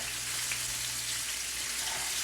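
Mackerel fillet sizzling in oil in a frying pan, a steady close hiss of frying with fine crackle and no talking.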